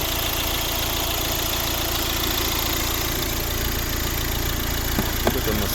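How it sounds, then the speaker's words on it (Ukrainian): A 2012 Volvo V60 1.6 diesel engine idles steadily with a low, even rumble, close by, with no talking over it. "Ось робота двигуна."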